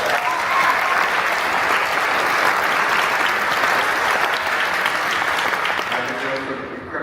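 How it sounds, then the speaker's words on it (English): Sustained, dense applause from a conference audience at the keynote of the 26th annual White Privilege Conference, loud and even throughout before easing slightly at the end. "If we can give them a round of applause."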